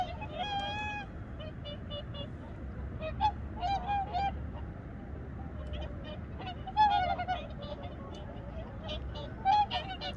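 Swans call across a frozen lake at Yangsuri, where the birds walk on the ice; soft, hooting calls come in scattered bursts over a steady outdoor background.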